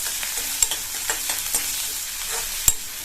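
Sliced onion and dried chilli sautéing in a pan for an okra side dish, a steady soft sizzle broken by several sharp clicks and scrapes of a spoon stirring against the metal.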